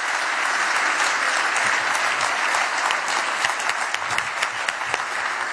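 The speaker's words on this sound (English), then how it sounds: "So let's give him a warm round of applause." Sustained applause from a convention audience for a speaker, steady dense clapping throughout with a few sharper claps standing out near the end, no voices over it.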